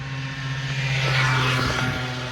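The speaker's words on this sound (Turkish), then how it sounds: "Bu da gitmiyor ama ses çıkarıyor. 50'lik motor neyse." A 50cc motorbike passes close by on a street, its small engine giving a steady nasal buzz that swells briefly and then eases away.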